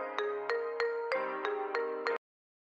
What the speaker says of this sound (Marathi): फोन वाजतोय यार तुझा